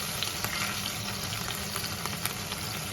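Anchovy fillets frying in oil in a pan for aglio e olio, a dense, even crackling sizzle held close and constant throughout with small spitting pops.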